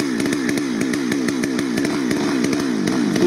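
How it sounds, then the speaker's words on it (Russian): A chainsaw cutting through a log, its engine buzzing loud and close with a rapid rhythmic chatter as the chain bites the wood, running without pause and with no talk over it. "Ребенок продолжает пилить, мне кажется."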